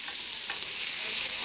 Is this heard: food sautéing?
yes